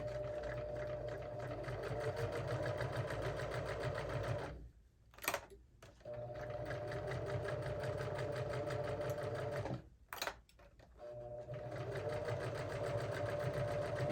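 A sewing machine runs a quarter-inch seam at 2.0 stitch length in loud, close, rapid stitching, stopping twice for brief pauses before starting up again.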